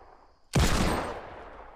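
Single loud gunshot in the Fortnite video game: a sharp close blast that rings out and decays over about a second, with no talking.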